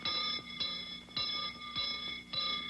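School bell on a 1954 children's television show, a bright electric-style bell struck in a steady repeating pattern of about five rings, each with a sharp attack and ringing tail, alone and fairly clear.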